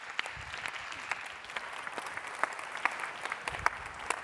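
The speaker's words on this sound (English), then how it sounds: "Please give her a very, very warm clap." Warm audience clapping for a speaker introduced at a human rights talk, steady and moderately loud with distinct sharp individual claps scattered through, no speech over it.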